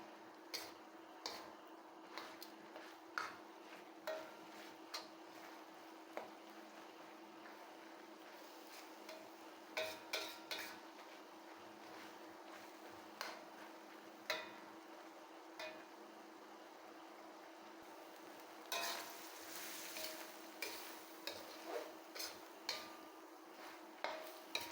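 Ingredients sautéing in a pan for Bicol Express, a quiet steady sizzle broken by frequent light clicks and taps of a utensil against the pan, with no talk.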